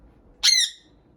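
A pet budgie lets out a single loud, shrill squawk up close, lasting about half a second against a quiet room.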